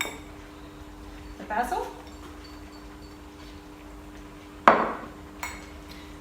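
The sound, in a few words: stirring basil into beetroot risotto in a pot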